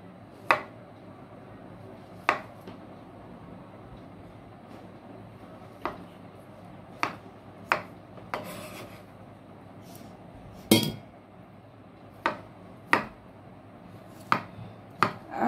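Sparse, separate knife taps cut dragon fruit into small pieces, crisp clicks against a board arriving every second or two over a quiet room hum, with no talking.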